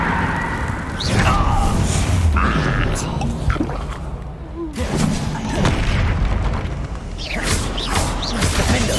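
A Harry Potter video game's Bombarda blasting spell goes off in loud, deep booming explosions amid mechanical clatter, with a voice talking over the game sound.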